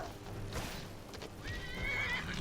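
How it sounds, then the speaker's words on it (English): A horse in the video game Skyrim neighs in a long, rising and falling whinny near the end. Faint hoof sounds and game ambience run underneath at low volume. "my horse is going nuts attacking people"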